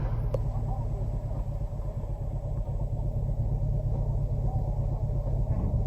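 Steady low rumble of a truck engine while driving, a constant droning hum with road noise that holds at an even level from start to finish, no talking over it.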